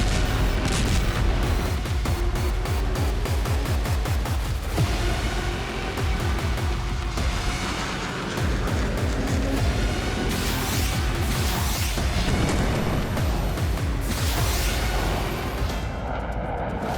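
Artillery and gunfire in the eastern Ukraine war zone: dense, continuous rumbling booms and overlapping loud bursts of firing fill the whole stretch with no pause.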